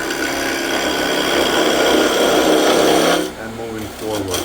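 Skew chisel cutting a spinning wooden spatula paddle on a lathe, a steady close whirring scrape that runs continuously and then stops, with someone talking over it.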